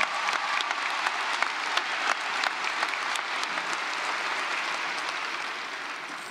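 Applause from a large audience at a high school graduation ceremony, a steady wash of clapping heard from a distance, with a few sharper nearby claps standing out before it slowly fades.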